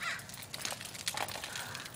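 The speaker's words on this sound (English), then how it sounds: "Birds, can you calm down, please?" Birds squawking indoors at home, a run of harsh, raspy calls repeated close by and fairly loud, with no talking.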